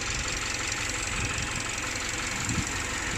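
A Subaru Outback engine idles steadily with the hood open, a continuous mid-low running hum with faint knocking texture, close and even throughout with no talk.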